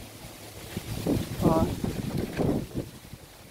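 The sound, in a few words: strong wind blowing on microphone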